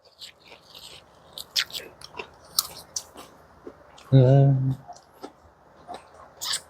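Chewing on gizzard shad sashimi taken with sake, soft crunchy bites and mouth noises spread through the clip with one louder, fuller chew midway.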